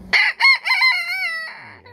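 A rooster crows once, loud and close, a harmonic multi-part cock-a-doodle-doo that tails off into a lower, rougher ending with no talking.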